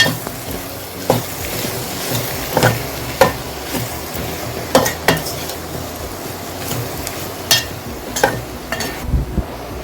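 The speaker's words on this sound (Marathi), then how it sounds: "बटाटे घालते हे सगळं मिक्स करून घेऊया" A spoon stirs a potato mixture in a pan, scraping and knocking against the metal in irregular bursts over a soft, continuous sizzle, with no voices.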